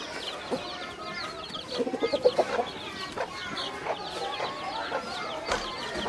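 Newly hatched chicken chicks and a partridge chick peep and cheep close by in a rapid, high-pitched chorus, with a short run of louder clucking notes in the middle.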